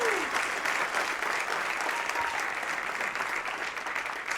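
An audience at a live RevOps and go-to-market talk claps in a dense, sustained wash of applause that holds steady throughout, fairly close and loud.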